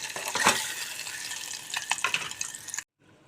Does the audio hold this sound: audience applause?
no